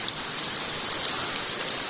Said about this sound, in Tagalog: Sana lumakas tong ulan na to.